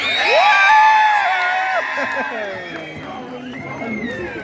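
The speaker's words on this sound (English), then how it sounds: "Boys and girls, you can scream if you want." A crowd of children at a sea lion show at West Midland Safari Park shrieks and cheers loudly together, a sustained burst of high-pitched yelling that slowly fades into scattered whoops.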